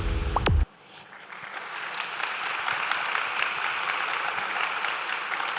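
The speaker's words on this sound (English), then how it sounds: "let's give him a round of applause as he helps us to present this award" At Tema International School's IB Class of 2021 graduation ceremony, a crowd breaks into steady, dense applause right after a brief tonal sound cuts off, and the clapping continues evenly to the end.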